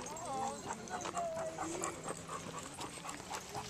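Thin, high whines from a dog among a group of springer spaniels at a park, whimpering over a steady outdoor background while people talk nearby.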